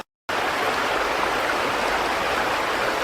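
River water rushing steadily beside the stepping stones on Dartmoor, a loud, continuous broadband flow close by after a brief silent start.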